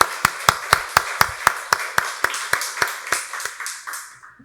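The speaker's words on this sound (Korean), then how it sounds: "박수로 하나님께 영광 돌리겠습니다." A church congregation claps in unison during a Sunday worship service, a steady run of sharp, evenly spaced hand claps that ring in the room and slowly fade out, with no voices over them.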